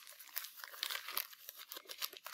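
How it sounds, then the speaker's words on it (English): Newspaper being crumpled by hand for a small paper mache project, a steady crinkling and crunching with repeated bursts, close and moderately quiet, no talking. "Kind of crumple everything in."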